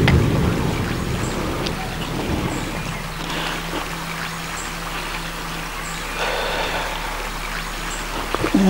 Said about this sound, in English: And here comes the rain.